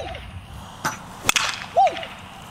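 A 50-year-old baseball bat whips through a swing and cracks sharply against a ball, a single brief impact surrounded by quiet ambient noise.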